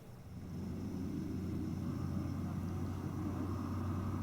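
Continuous highway traffic through a high mountain pass in Sichuan, China, a steady low rumble of distant vehicles holding at an even, faint level throughout.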